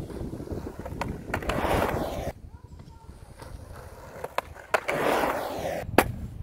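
Skateboard wheels roll and grind on a 5ft quarter pipe at a skatepark, with rumbling runs, sharp clacks of the board on coping and tail, and wind noise, recorded alone without talk.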